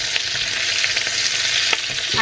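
Garlic and onion fry with a steady sizzle in a pan while a utensil stirs them, making scattered scraping clicks, close and loud.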